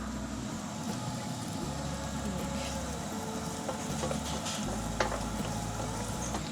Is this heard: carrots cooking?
yes